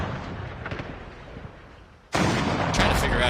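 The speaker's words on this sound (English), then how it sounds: "I hear a lot of explosions." Explosions and gunfire in a COD Mobile battle royale match, heavy rumbling blasts that become a loud, dense barrage partway through, with commentary voices underneath.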